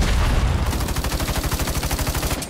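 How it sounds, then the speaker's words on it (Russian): Rapid automatic gunfire in the shooter video game Battle Teams 2, a loud close burst opening into a fast, even stream of repeated shots lasting about two seconds. "Нужно во взрывчатых стрелять, когда они в пачке, я понял."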